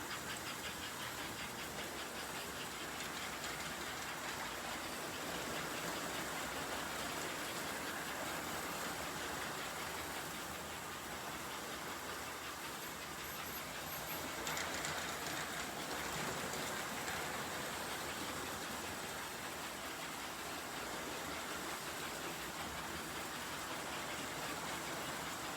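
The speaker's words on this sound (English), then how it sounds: "This video also shows 2 trains on the outside loop." Two American Flyer model trains circle an outer loop of a home layout together, giving a faint, continuous hissing rumble that stays even and steady throughout with no talking.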